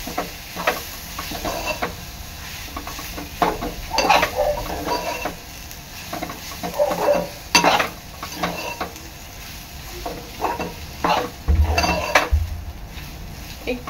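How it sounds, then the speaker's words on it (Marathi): Mashed potato mixture being stirred in a pan for potato patties: a spoon scrapes and knocks against the metal in irregular bursts, with faint sizzling underneath and no voices. "आता ह्यामध्ये मी आपला स्मॅश केलेला बटाटा मिक्स करून घेणार आहे।"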